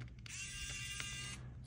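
A small electric screwdriver buzzes steadily for about a second and a half, undoing a screw on a New 3DS XL handheld being taken apart, close and quiet with a faint low hum beneath.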